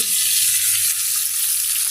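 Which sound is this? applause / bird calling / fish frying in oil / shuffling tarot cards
fish frying in oil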